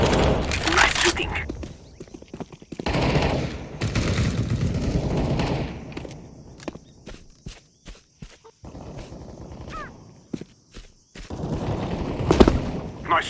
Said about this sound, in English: Very good shooting. You got him.